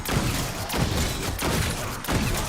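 Rapid bursts of popping gunfire from the Shattered Blast weapon in Black Ops 6 Zombies, crackling like small fireworks, repeating in quick waves.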